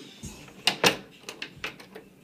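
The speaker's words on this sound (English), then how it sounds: "That door back there is what you're hearing right now." A door rattles and knocks in short, uneven bursts as a subwoofer pumps bass nearby, with several sharp clattering hits over quiet background.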